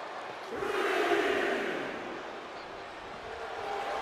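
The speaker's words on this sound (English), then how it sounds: "Show off your charisma, though. It's a crowd pump." A wrestling arena crowd in WWE 2K24 roars in response to a crowd-pump taunt, a broad, sustained wash of cheering that swells and then holds steady.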